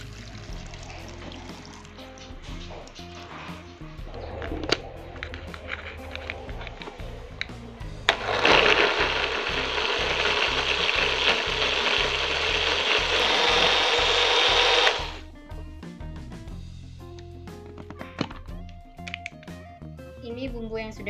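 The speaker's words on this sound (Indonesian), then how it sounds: "Kita tambahkan sedikit air untuk memblender." Electric blender whirring loudly as it blends spices with water for Acehnese sie reuboh boiled beef, a steady roar of about seven seconds with clinks and kitchen sounds before and after.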